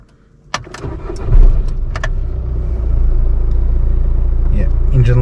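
A Volkswagen Golf Mk5 diesel, just fitted with a new glow plug module, cranks briefly after a click and catches, settling into a steady, loud close-up idle rumble.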